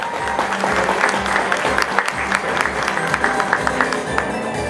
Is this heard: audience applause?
yes